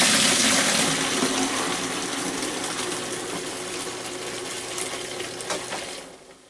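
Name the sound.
bilge pump pumping diesel-contaminated bilge water into bucket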